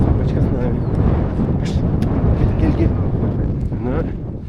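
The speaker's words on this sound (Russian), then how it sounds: "Друзья, ветер." Strong autumn wind in the mountains buffeting the microphone, a loud continuous low roar with gusts, heard without talk.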